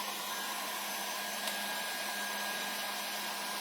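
A hair dryer blows steadily and close up, drying Mod Podge on a wooden cutting board being decorated with a winter tree design. The whir is constant and alone the whole time.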